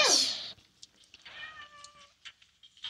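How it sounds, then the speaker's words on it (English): A domestic cat gives one loud, close meow at the start, followed by quieter, softer cat vocalizations and faint rustling in an otherwise quiet room. "That's a cat."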